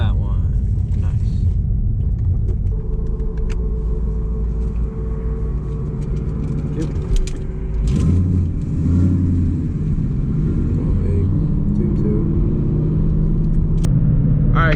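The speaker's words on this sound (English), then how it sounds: "I was learning how to launch the car." A car with a new drag racing setup launches hard, its engine rumbling and revving loudly and close by for the whole stretch, the pitch shifting partway through, while a person talks over it.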